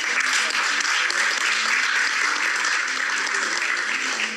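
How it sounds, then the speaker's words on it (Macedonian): An audience claps at the close of a televised quiz game show, producing a dense, steady wash of applause that holds evenly at full strength throughout. "Добро што завршуваме, оти еден аплауз."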